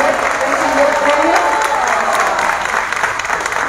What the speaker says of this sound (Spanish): Un fuerte aplauso para nuestra amiga licenciada Nérida, que ayer recibió el premio.